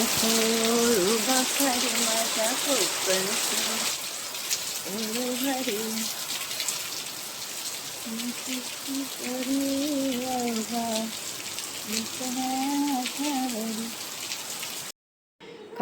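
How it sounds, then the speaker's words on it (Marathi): Rain showers falling in the Konkan region, a steady wash of rainfall heard under a person talking throughout, with the patter continuing between phrases. "छान सरी येत आहेत पावसाच्या"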